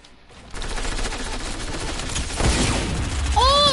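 A loud sniper rifle shot cracks out amid a dense run of gunfire in a video game, with the firing growing louder toward the end.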